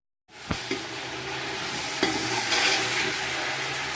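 Masala sizzling and frying in mustard oil for a stuffed tinda curry, with a steady close crackle and a few stirring knocks at the start, with no talking.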